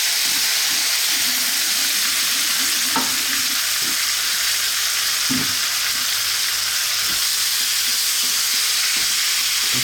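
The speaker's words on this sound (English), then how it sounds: "Now we're going to drop in the whole mixture." A beef curry mixture sizzling loudly in hot infused oil, a dense, constant frying hiss with occasional knocks and scrapes of stirring, close up and without speech.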